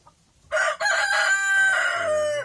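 A Barred Plymouth Rock and Rhode Island crossbreed rooster crows once, loud and close, a long drawn-out call standing alone.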